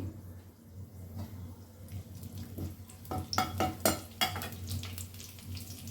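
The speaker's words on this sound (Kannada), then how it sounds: "ಈಗ ನೋಡಿ ಎಣ್ಣೆ ಬಿಸಿಯಾಗಿದೆ ಇದಕ್ಕೆ ನಾನು ಕರ್ಬೇವು ಸೊಪ್ಪು ಹಾಕೋತಾ ಇದ್ದೀನಿ" Curry leaves drop into hot oil already used for frying kebab, giving close, crackling sizzles and sharp pops that grow busier midway over a steady low hum, with no voices.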